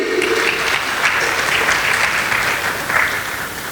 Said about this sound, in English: let's have a round of applause for all of you once again